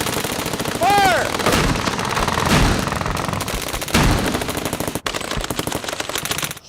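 Tank guns fire at Fort Knox in a series of loud, booming blasts spread over several seconds. Each one is sharp and heavy, with rumbling echoes that linger between the shots.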